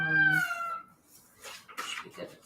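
A little cat meows near the microphone, one drawn-out tonal call followed by softer, broken vocal sounds from the same cat.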